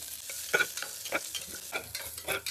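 Green chilies and garlic frying in a pan for a simple greens sambar, a steady sizzle broken by a few sharper stirring scrapes and crackles, close and moderately loud with no talking.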